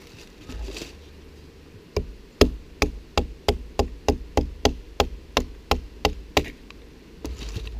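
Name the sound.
knife splitting a piece of hardwood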